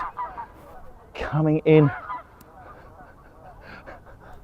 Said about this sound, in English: loads more geese